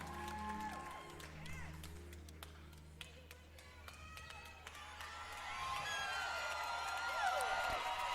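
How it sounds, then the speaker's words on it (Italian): A live concert audience breaks into applause and cheering, starting faint under sustained tones, then swelling into a broad wash of clapping and crowd noise in the second half. "Si prende un po' di applausi."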